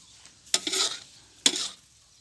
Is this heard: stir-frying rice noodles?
yes